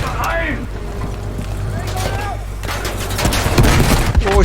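Battlefield V gunfire crackling in bursts amid a rumbling tank battle, with someone speaking urgently over the shots.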